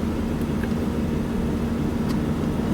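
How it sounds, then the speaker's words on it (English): A 2006 Aston Martin Volante in sport mode, heard from inside with the door open, gives a steady low exhaust drone that holds close and fairly loud throughout, with no talking. "See if that changes the tone of the exhaust."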